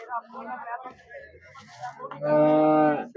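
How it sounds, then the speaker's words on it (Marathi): A cow of a Punjab breed moos loudly and long near the end, after a stretch of animal and background noises at a livestock market in Kashti, Maharashtra. "या पंजाबच्या गायी आहेत सर्वचे सर्व"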